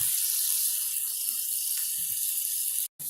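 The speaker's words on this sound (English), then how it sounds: "after washing my cutting board and my knife" Water runs steadily from a kitchen tap while a cutting board and knife are washed, a close, even hiss that cuts off abruptly near the end.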